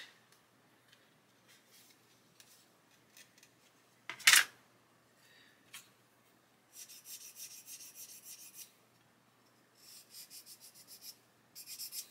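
Coarse sanding stick rubbed on the plastic of a 1/24 Airfix Spitfire Mk.IXc kit part, removing ejector pin marks: faint scattered scrapes, one sharp louder tap, then two longer bursts of steady rasping strokes.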